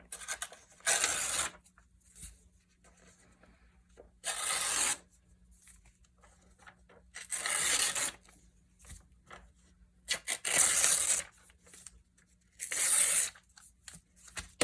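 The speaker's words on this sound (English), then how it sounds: "So you tore the paper in half, and then you're tearing the strips out of 2 halves to make them not so long." Paper being torn by hand into long strips during a craft activity: five separate rasping rips, each about a second long, with quiet pauses between them and no talking.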